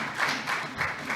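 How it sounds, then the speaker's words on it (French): Audience at the closing of a health policy short course applauding, a brief burst of massed clapping that swells and eases in soft waves, somewhat distant and roomy. "je demande que vous puissiez vous applaudir."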